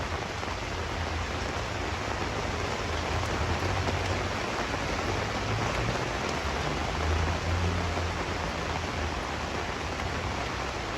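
Steady rain from a sudden summer storm pattering outdoors, with drops drumming on an umbrella overhead: a dense, continuous hiss with no pauses, close and even throughout.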